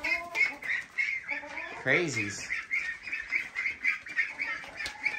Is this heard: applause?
no